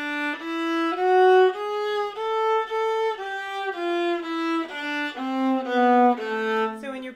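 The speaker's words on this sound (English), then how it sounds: "So melodic minor sounds like this." A solo viola plays an ascending and descending A melodic minor scale over one octave, with clear, evenly bowed notes, loud and close, with no speech.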